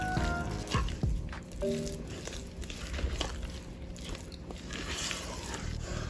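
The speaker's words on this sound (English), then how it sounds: "I'm kind of folding and then bringing the mixture back towards me." Mashed bananas folded into banana bread batter with a spatula, giving soft wet squishes and scrapes in an uneven rhythm, close up against a steady background hum.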